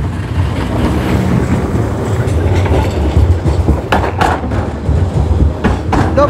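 Trams roll past on city tracks with a steady loud rumble and clattering wheels, a few sharper metallic knocks rising over the continuous noise.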